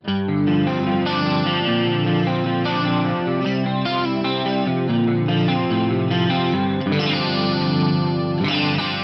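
Electric guitar chords through a compressor, chorus, delay and reverb: shimmering chorus, smooth compressed sustain, echo repeats and a roomy reverb, played steadily without any voices.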